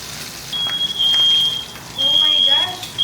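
A smoke alarm set off during cooking gives a high, piercing electronic beep in two long sustained bursts, fairly close and loud, with household noise and people talking around it.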